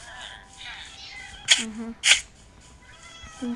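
A cat meows twice in the video game Minecraft, short and clear, heard amid game sounds with people chatting around it.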